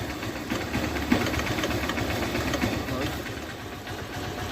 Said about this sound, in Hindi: इसके इंजन में से एक अलग सा नॉइज़ आ रहा है।